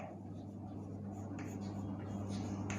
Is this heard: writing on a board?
yes